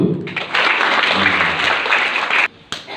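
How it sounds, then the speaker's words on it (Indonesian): Schoolchildren at an Isra Mi'raj celebration at an elementary school break into a burst of dense clapping that lasts about two seconds, loud and close, then stops abruptly. "Tepuk tangan dulu."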